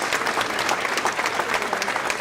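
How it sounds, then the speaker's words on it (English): A room full of people applauds the kids in the audience at a 40 Under 40 event, brisk continuous clapping that stays close and fairly loud for the whole short stretch. "Round of applause for all the kids in the room"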